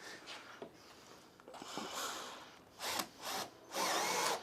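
A power drill with a Torx bit drives Magic Torque screws into a new floor in a VW Crafter van, giving a few short, close whirring bursts that grow longer toward the end, with quiet handling noise in between.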